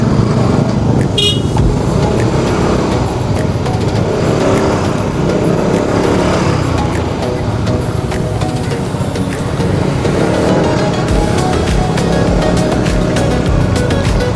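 Steady car traffic outside a mosque bazaar in Melaka, with dense engine rumble throughout and a few brief horn toots standing out near the start and toward the end.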